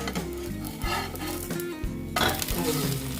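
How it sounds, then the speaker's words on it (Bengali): Flatbread made from atta and maida turned over in a pan with a little oil, sizzling steadily and loudly up close, with a scrape and clink of the utensil partway through. "এখন এখানে উপর অল্প তেল দিয়ে দিলাম দিয়ে এটাকে আমি উল্টিয়ে দিচ্ছি"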